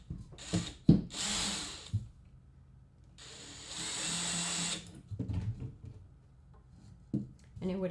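A power drill drives screws into a metal grill cart frame in short close bursts of whirring, separated by clunks, knocks and handling noise, with brief speech in between.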